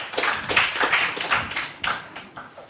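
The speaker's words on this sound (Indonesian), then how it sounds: "Tepuk tangan untuk mereka berempat." Sparse, uneven clapping from a small audience at an Islam-versus-Christianity debate event, a few hands tapping in irregular bursts that fade toward the end, with no talk over it.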